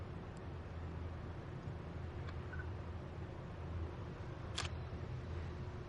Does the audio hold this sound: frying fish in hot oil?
no